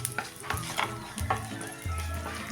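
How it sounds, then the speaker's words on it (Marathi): Raisins sizzle and crackle in leftover ghee while being stirred, with bursts of frying and a steady low hiss that swells near the end; close and moderately loud, with no talking. "आता ह्या उरलेल्या तुपात पहिल्यांदा हे बेदाणे तळून घेऊया।"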